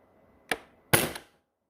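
A Nerf Hyper Evolve-100 blaster fired through a chronograph, a quick airy snap followed by a louder, longer whooshing pop, both close and sharp in an otherwise quiet room.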